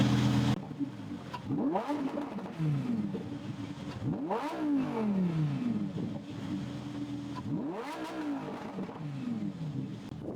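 A Lamborghini Huracan STO with its V10 engine revving: three throttle blips climb sharply to a high howl and then fall away, while a steady idle burble runs between them, loud and close.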